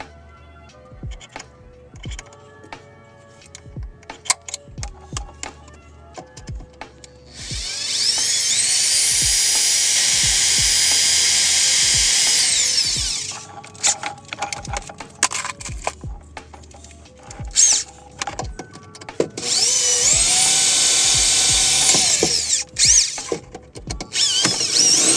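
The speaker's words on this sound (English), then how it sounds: "I'm going to start with a small drill bit, make a pilot hole." A power drill with a small bit whines loudly in two sustained bursts drilling pilot holes, with clicks, taps and handling noises in the quieter stretches between them.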